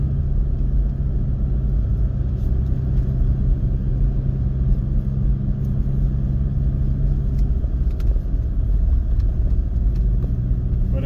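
A towing vehicle's engine labors steadily in second gear on an Arizona road toward a state park campground, a dense constant rumble with road noise and no talking.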